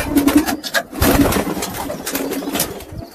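Domestic desi pigeons coo in low, soft, throaty phrases close by, repeated several times over a faint, steady rumble like a distant motor, with light rustling and wing movement.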